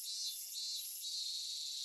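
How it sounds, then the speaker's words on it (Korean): Cicadas droning steadily again in a late-summer forest after a silence, a continuous high buzzing insect chorus with slight swells, moderately loud and with no other sounds. "여우가 사라지자 언제 그랬냐는 듯 매미가 다시 울기 시작했고"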